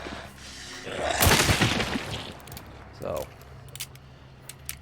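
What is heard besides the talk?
gunshots in a video game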